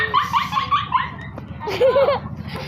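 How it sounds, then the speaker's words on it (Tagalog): A dog barking outdoors: a quick run of high, yelping barks, then a pause and a second whimpering, yipping burst, close and fairly loud. "Aso!"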